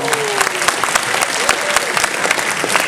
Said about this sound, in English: Give yourselves a round of applause for keeping this franchise strong.